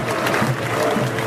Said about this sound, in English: I'm surprised the applause that the England fans are giving to the players,